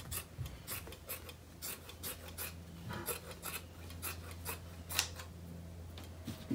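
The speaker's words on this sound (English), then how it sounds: "After I'm done trimming the fabric here" Scissors snip repeatedly through fabric while trimming down the corners on a rectangular punch needle frame, with quiet close crisp cuts in an uneven rhythm and soft rubbing between.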